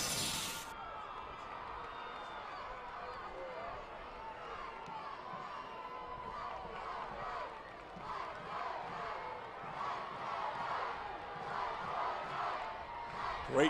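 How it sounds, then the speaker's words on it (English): A large stadium crowd at a 2015 high school state semifinal football game between the Katy Tigers and Cibolo Steele Knights at Alamo Stadium roars and cheers steadily, swelling louder toward the end, with distant whoops and shouts in the mass of noise. "Great crowd on hand here. They are fired up."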